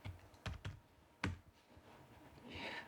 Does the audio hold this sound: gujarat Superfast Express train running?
no